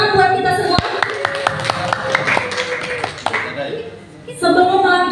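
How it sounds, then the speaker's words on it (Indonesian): Classroom clapping during a teaching practice lesson, a rhythmic run of evenly spaced claps in a patterned beat, with a sustained tone beneath and a voice speaking before and after. "Tepuk tangan buat kita semua."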